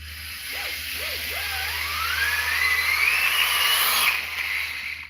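A Lego truck's motor strains as it pulls a weighted sled, a whirring electric whine that climbs steadily in pitch for about four seconds and then cuts off, with a steady low hum underneath.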